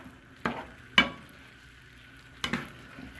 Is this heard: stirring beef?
yes